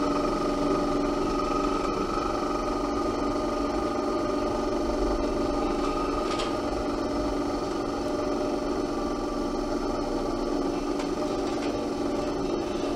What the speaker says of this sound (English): Sorry about the wheel, it's making a lot of noise